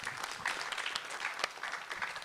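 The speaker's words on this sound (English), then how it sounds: "let's give Minji a nice round of applause for her drawing" An audience claps warmly for a student's drawing at a summer science institute presentation, a short burst of many hands at moderate distance with a few sharper individual claps.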